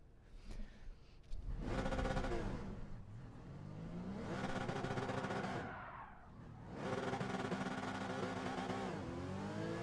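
Race car engine in Gran Turismo 7 heard from behind, revving hard in loud sustained surges with a brief lull mid-run as it lifts off, then climbs again.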